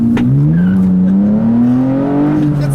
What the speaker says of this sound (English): let's go for another acceleration